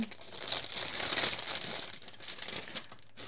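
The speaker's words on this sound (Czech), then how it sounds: "Nejdřív ještě musím vytřídit všechny tyhle ty papíry, co si ještě schovám" Loose papers being sorted and shuffled by hand at home, giving close, moderately loud crinkling and rustling that rises and falls in bursts, heard alone with no talking.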